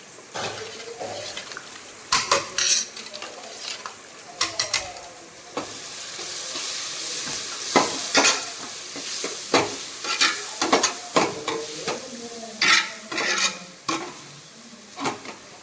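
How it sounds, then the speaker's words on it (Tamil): Masala with tomato and onion sizzles in a pan for fish curry, broken by repeated loud scrapes and knocks of a spoon stirring it, close up and with no voices. "சரியா மசாலா நல்லா தக்காளி வெங்காயத்தில் கொஞ்சம் நேரம் நல்லா வதக்கிட்டோம்"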